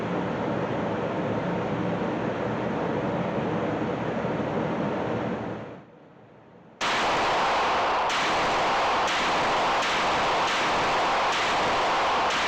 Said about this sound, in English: I'm going to go ahead and fire off some rounds to see how we do.